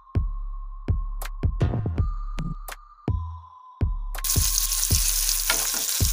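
Carrot is added to hot oil with dried red chilli and whole cumin seeds, giving sharp clacks of stirring followed by a louder, steady sizzle that swells near the end.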